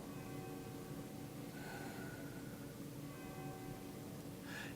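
A meditation bell rings faintly, its soft sustained tones lingering beneath a steady background hiss, with a second gentle strike midway.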